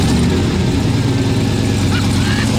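A GMC Sierra truck engine with a new turbo fires up and settles into a loud, close, steady idle rumble with a faint whine over the top.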